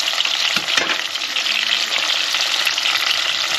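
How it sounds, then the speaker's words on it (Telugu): Masala with ginger and garlic frying in a pan, a dense, steady hiss of sizzling oil that stays loud throughout, with a couple of soft stirring scrapes near the start. "వేసేసి ఇలా ఫ్రై చేసుకుంటున్నాను"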